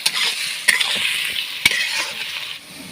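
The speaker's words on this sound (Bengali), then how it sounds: "আলু আর পেঁয়াজটা একসাথে ভেজে নিচ্ছি" Potatoes and onions fry together in a pan, sizzling steadily with crackly spatter while a utensil stirs them, giving two sharp scraping knocks against the pan amid the frying.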